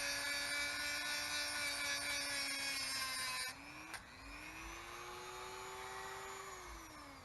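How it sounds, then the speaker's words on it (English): A Dremel rotary tool cuts a slot into a rusted bolt on a BMW E46, a close, loud high-pitched whine that drops in pitch and load partway through, then keeps grinding steadily. "First I tried cutting a slot in it with the Dremel tool so I could remove it with a screwdriver."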